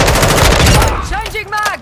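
Loud automatic gunfire in Modern Warfare II rattles in a rapid close burst for about a second, followed by a quieter stretch with brief voice sounds.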